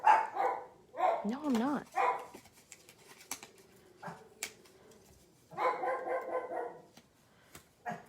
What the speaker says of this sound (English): You can hear him, right? Those dogs.